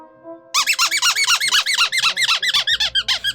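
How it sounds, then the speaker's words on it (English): A rapid run of high, rubbery squeaks, like a squeezed dog toy, repeating in a quick steady rhythm after a brief quiet start. "they all made squeaky noises like a dog toy"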